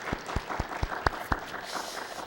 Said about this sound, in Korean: 우리 박수로 한번 격려하도록 하겠습니다